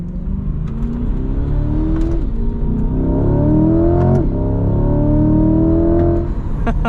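Chevrolet Corvette C8 with a 6.2-liter V8 revving loudly from start to finish, the engine note rising and falling through several pulls with no talk over it.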